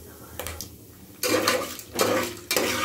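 Mustard seeds and dal crackle and splutter in hot oil, with several loud bursts of popping separated by quieter pauses, heard close up.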